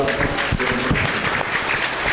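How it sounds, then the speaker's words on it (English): Crowd applause at a state fair cattle show, steady, close clapping from many hands filling the whole short stretch without a break. "Let's give a nice round of applause."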